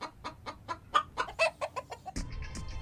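A voice imitates a chicken with a quick series of rhythmic clucks, close and fairly loud, ending in a more drawn-out squawk.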